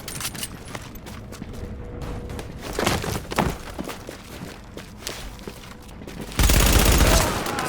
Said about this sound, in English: Someone's shooting at me, I don't even care